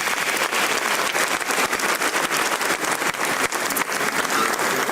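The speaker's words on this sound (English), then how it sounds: "Shall we do a big round of applause and welcome them?" Audience at an honorific law school lecture breaking into sustained applause, a loud, dense wash of clapping hands continuing throughout without speech.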